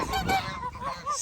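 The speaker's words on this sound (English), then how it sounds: "The geese are stealing them right now." Geese honk loudly and repeatedly at close range while stealing small piles of food set out for them, with no talking.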